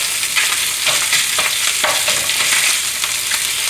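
Cold pork and vegetables stir-fry for gochujang sea salt pork, crackling in a steady loud sizzle with soft clicks of the spatula turning the pieces, no voices.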